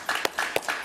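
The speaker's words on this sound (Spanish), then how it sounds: "Un aplauso para él, por favor" Audience applause for Axel Kaiser at a talk event, heard as a handful of distinct hand claps in quick irregular succession, fairly near and moderately loud.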